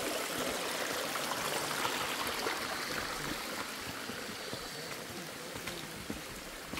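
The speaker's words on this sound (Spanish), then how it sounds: "Qué chivo este río." A river stream rushes steadily with broadband watery hiss, continuous and fairly close, with no voices.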